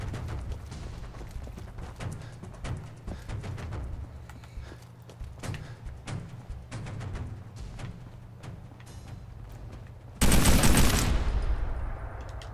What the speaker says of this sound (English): This minigun has quite the impact.